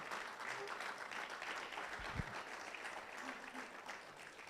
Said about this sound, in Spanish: Vamos, dale ese fuerte aplauso al Señor.